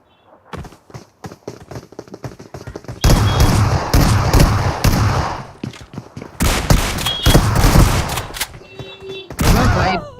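Gunfire in the Free Fire video game crackles in rapid bursts and volleys, loud and close, broken by brief gaps, with little talk over it.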